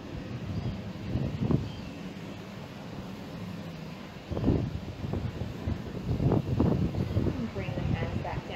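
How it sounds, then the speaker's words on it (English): Wind blows outdoors at a surf-side yoga session, a continuous low rumble and buffeting against the microphone, with a calm voice talking throughout. "It's really windy"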